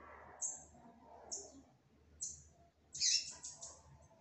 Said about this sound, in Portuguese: Ó o piadinho dela.